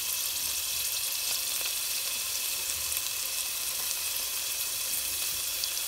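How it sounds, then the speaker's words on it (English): Onion and garlic frying in hot sprayed oil for aloo gobi, a steady bright sizzle and crackle holding evenly throughout, close and fairly loud with no one speaking. "So I'll put my onion and garlic."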